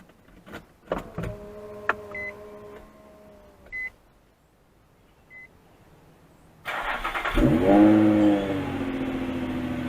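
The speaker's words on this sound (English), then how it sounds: "Let's go ahead and give it a cold start up and see what it sounds like before." Cold start of an Infiniti FX35: a few chimes and beeps, a quiet pause, then the engine cranks, catches and flares loudly before settling into a high, steady idle.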